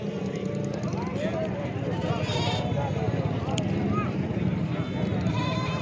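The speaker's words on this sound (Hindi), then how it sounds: "और ये नस्ली बकरा खड़ा हुआ है।" A purebred billy goat bleats repeatedly at a busy goat market in Dera Ghazi Khan, with other animals calling under constant talk and bargaining from the crowd.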